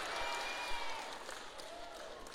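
Audience at a lively humorous sermon breaking into applause and a bit of crowd noise, a dense steady patter of clapping at moderate distance that fades slightly toward the end.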